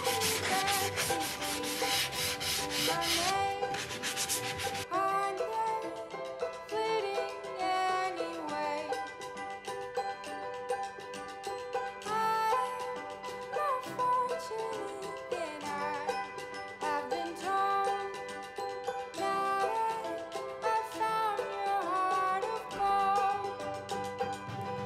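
A painted vintage picnic basket is sanded by hand to distress its finish, a steady scratchy rubbing that runs continuously for the full stretch with little pause.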